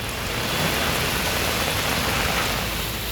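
Heavy rain falling in Navi Mumbai, a dense, steady roar of downpour filling the whole stretch without any voices.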